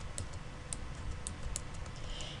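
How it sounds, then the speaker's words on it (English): Quiet, rapid keystrokes clatter on a computer keyboard as a word is typed into office CRM software, the soft clicks spaced irregularly over a low background hum. "I'm going to type in cornucopia"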